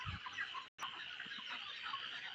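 Broiler chickens, 33 days old on a farm, cluck softly and continuously, close by, with overlapping murmurs from a flock and a brief gap in the sound.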